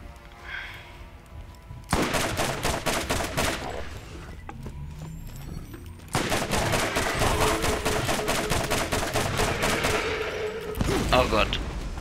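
Rapid automatic gunfire from a first-person shooter game, Borderlands, in long loud bursts of closely spaced shots separated by short pauses, with game effects and a voice talking briefly underneath.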